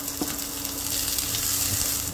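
Garlic sautéing in a pan before onion goes in, giving a continuous close, bright sizzle with a faint tap of stirring near the start.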